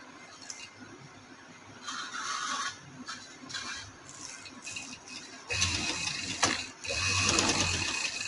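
A sewing machine stitches machine embroidery on a flower design, its steady mechanical rattle running in bursts that grow louder and denser in the second half, with no talking.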